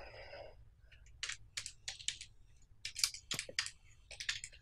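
Quiet, quick bursts of typing on a computer keyboard as a Facebook address is entered, with irregular clusters of light key clicks and short pauses between them.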